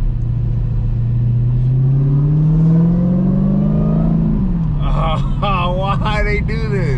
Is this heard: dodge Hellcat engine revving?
yes